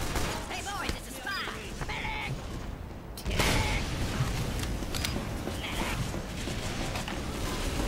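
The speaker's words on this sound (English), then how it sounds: "Oh my god, that is a turret." Sentry turret fire in Team Fortress 2 clatters through dense, busy game noise, with a voice talking over much of it.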